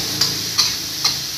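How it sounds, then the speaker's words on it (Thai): Long beans and pork are stir-fried in a pan for pad kaprao. A steady close sizzle carries three evenly spaced clicks of a spatula against the pan, with no talking. "ใส่ถั่วฝักยาวลงไปแล้วก็ผัดให้ถั่วสุกค่ะ"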